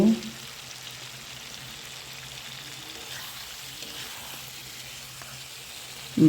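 Teasel gourd goes into a pan of frying jatka fish, giving a steady, even sizzle with a faint crackle throughout and a couple of louder clunks of handling at the start and end.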